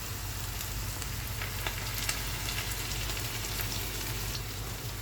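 Onion and a chili pepper fry together in a pan, giving a dense, even sizzle that holds steady from start to finish, with faint scattered stirring clicks over a low hum and no voices.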